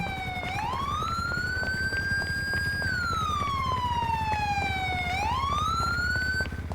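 Wailing emergency siren from an ambulance in GTA 5 with the LSPDFR mod, rising and falling in slow sweeping cycles, loud and steady over a low engine rumble.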